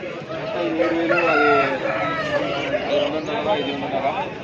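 A rooster crows at the Sunday poultry market in Pileru, its strained call rising over a crowd of people talking and other chickens clucking nearby.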